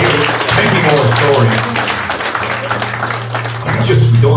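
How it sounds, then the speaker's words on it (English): An audience breaks into sustained applause, a dense wash of clapping that carries on steadily throughout. "Give Margaret and Pete a round of applause"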